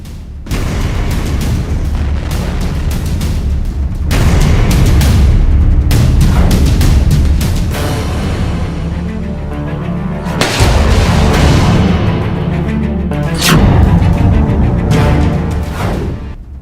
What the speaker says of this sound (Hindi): 27वें दिन भी रूस की भारी गोलीबारी जारी है, गोलाबारी जारी है।